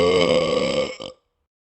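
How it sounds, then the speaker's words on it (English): A long, loud burp that rumbles steadily for about a second, then ends with a short second gulp before going silent. "Now that's what I call the long burp"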